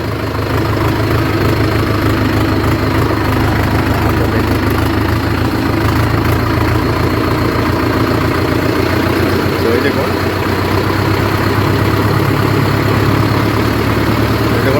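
A tractor engine drones steadily in high range first gear while climbing during the paddy season, heard from inside the cab as a continuous loud low rumble with no break.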